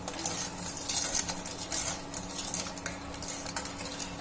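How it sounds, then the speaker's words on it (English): A utensil stirs sugar syrup for jalebi in a pot over medium heat. It makes repeated scraping and clinking against the metal over a low, steady simmer hum, close and moderately quiet. "When we make the sugar syrup, continue stir it, otherwise the sugar is stick."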